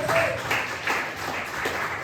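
A church congregation claps in rhythmic bursts during a worship service. The applause is moderately loud and close, and it repeats at a steady pulse with no talk over it.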